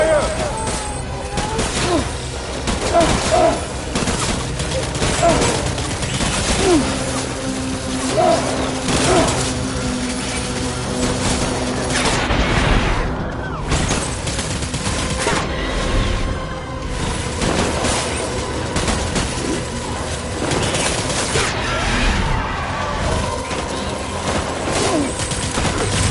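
Continuous dense gunfire and explosions fill a Death Stranding video game battle scene, a steady loud barrage of shots layered with rumbling booms and clattering effects throughout.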